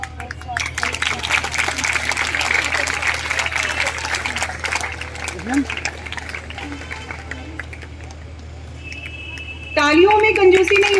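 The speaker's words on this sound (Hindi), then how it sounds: "तालियों में कंजूसी नहीं होनी चाहिए।" Audience applause at a Jain lecture on the art of living held in a library, with many schoolchildren present: dense, steady clapping that carries on for several seconds and fades. A voice then speaks over a hum near the end.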